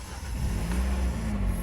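A BMW 330d E46 diesel engine idles close by and rises into a steady rev, with a low rumble that holds through a short burst.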